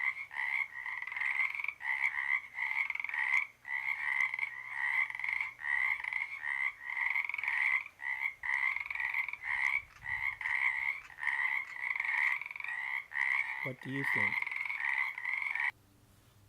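A male frog in a pond gives a long run of rapid gurgling croaks, repeated in even pulses with short gaps between them. A faint voice speaks briefly near the end before the calling stops.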